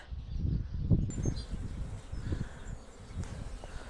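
A soft, continuous buzz of honeybees in flight from a marsh and willow thicket hums outdoors, steady and fairly faint, with a few louder rustling bursts early on.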